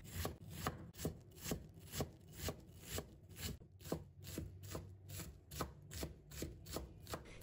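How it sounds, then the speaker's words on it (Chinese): A knife dices half an onion on a cutting board in a home kitchen, producing a quick, regular series of close, sharp chops with soft knocks between. "再切小丁。"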